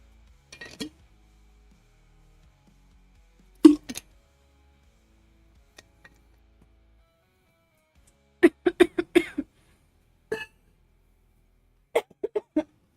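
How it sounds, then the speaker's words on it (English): A person coughs close into a microphone during a live stream, producing short, sharp bursts scattered through near silence, including a quick cluster of several coughs in a row and a few isolated single ones. "Sorry for coughing into the mic."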